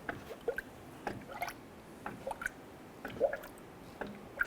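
Coolant poured through a funnel into the radiator of a 2012-2017 Toyota Camry during a water pump replacement, giving faint, scattered drips, squishes and gurgles at close range with no talking.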